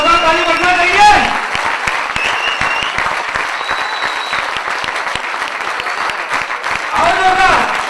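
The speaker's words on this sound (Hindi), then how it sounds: "तो क्या लगता है आप जोरदार ताली बजना चाहिए?" A celebration crowd claps loudly and continuously, with a voice talking over the start and again near the end.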